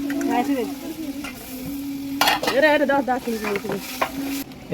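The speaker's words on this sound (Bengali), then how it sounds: "এগুলো কষাইতেছি, কষানো চলতেছে।" Taro, potatoes and vegetables stir-fried in a pan, a steady close sizzle with repeated scraping and stirring strokes throughout; no talk.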